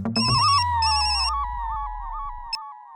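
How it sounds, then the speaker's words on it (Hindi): A telephone rings with an electronic, repeating ringtone in a bungalow in the comedy series Taarak Mehta Ka Ooltah Chashmah. The ring is loud and clear at first, then a steady warbling tone carries on, with a brief click near the end. "ये थापा फोन क्यों नहीं उठा रहा?"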